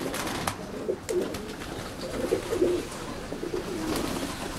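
Racing pigeons coo in low, repeated bursts close by, with soft wing flutters and rustling over a steady outdoor background.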